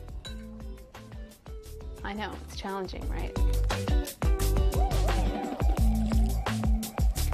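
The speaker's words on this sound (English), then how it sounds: "And next, I'm just going to add my warm water." Warm water is poured over flaxseed meal in a clean bowl, with small trickling, dripping and clinking sounds under someone talking nearby.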